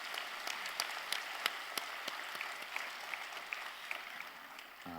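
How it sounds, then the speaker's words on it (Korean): A church congregation at a Sunday service claps in blessing of the children: soft, fairly distant applause from a crowd, with a few crisp claps standing out. "우리 한번 격려하고 축복하는 마음으로 박수 한번 하겠습니다"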